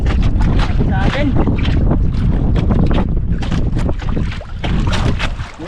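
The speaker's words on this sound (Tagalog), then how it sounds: "Grabe hangin" Strong amihan wind at sea roars steadily and loudly across the microphone aboard a small fishing boat, while people talk over the gusting buffeting throughout.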